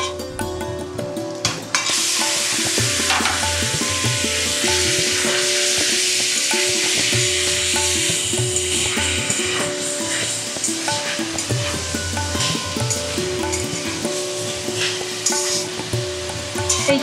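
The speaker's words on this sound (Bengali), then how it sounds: "এই চিকেনটা দিয়ে এইভাবে আমি আগে এটার সাথে ভালো করে ভাজবো" Chicken pieces fry loudly in a kadai with ginger garlic paste and onion, a steady close sizzle with scraping stirs throughout, after a brief quieter start, no talking.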